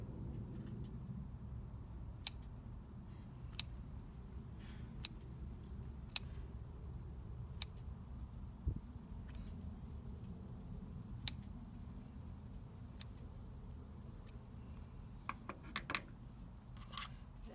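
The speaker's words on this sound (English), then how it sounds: "Now cut your tassel." Scissors cutting a tassel for earrings, with a few faint, sharp snips spaced over a quiet, low background hum.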